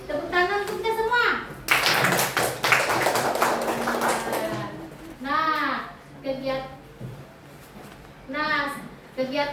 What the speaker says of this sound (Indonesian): Iya, tepuk tangan untuk kita semua.